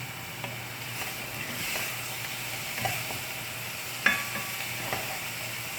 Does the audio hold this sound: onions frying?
yes